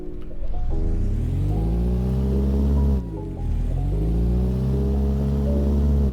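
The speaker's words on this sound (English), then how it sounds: "Let's go ahead and give a nice listen to this weird inline 3." A three-cylinder car engine in a ROBLOX video game revs with a buzzy, uneven drone, dips briefly, then climbs again and holds, loud and close, no voices.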